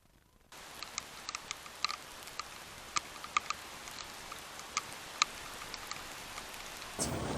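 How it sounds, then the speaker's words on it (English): Light to medium rain begins pattering on a van roof during solo car camping, scattered sharp drops ticking close by over a soft steady hiss that picks up near the end. "It's like a medium, kind of lightish medium rain right now, but it's picking up"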